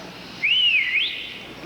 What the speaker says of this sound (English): Now, there's the whistle that was the envy of every kid on our block.